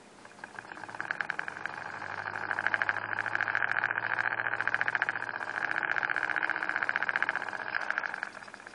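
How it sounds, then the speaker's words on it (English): A small brushless DC motor driven by an optical sensor circuit runs steadily, giving a continuous close-up whirring hum with a bright buzzing tone that holds even for about nine seconds. "I'm going to push the button here, the push button, and we'll see how this motor runs"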